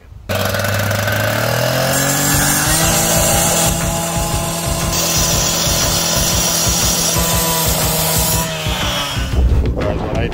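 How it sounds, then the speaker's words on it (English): Power saw slicing through natural stone for a front porch makeover, a loud continuous grinding whine with a steady low hum that holds for about eight seconds before winding down, close by. "we're gonna cut right through our stone"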